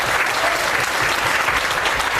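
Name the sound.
congregation applauding in church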